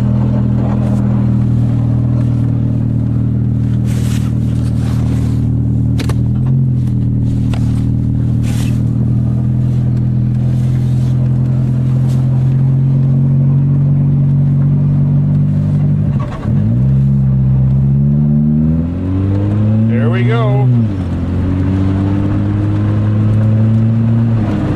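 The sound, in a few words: car driving with weak brakes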